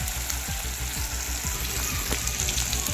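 Ingredients for Maharashtrian varan phale roast in a pan until brown, giving a steady, even sizzle with fine crackling throughout and no voices.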